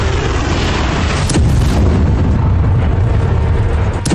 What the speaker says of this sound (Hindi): ताबड़तोड़ मिसाइलों का प्रहार किया है